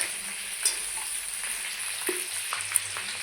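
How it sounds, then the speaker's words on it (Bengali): Raw mango pieces fry in hot oil for pickle, a soft steady sizzle with a few faint stirring clicks, heard alone at low level. "একটু ভেজে নেব আমগুলো।"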